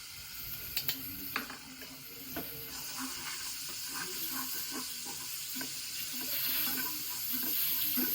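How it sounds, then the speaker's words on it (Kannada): Garlic and ginger frying in a pan for Gobi Manchurian: a continuous close sizzle with occasional stirring scrapes and clinks, growing slightly louder and hissier toward the end, with no talking. "ಬೆಳ್ಳುಳ್ಳಿ ಶುಂಠಿ ಎರಡನ್ನೂ ಫ್ರೈ ಮಾಡ್ತಾ ಇದ್ದೀನಿ ಇವಾಗ"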